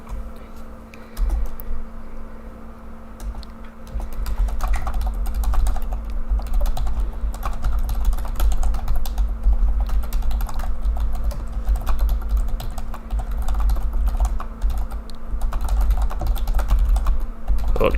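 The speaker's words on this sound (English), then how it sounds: "The typing's probably loud for you all." Rapid clattering keystrokes on a computer keyboard run almost continuously and fairly loud throughout, with a steady low hum underneath and no talk.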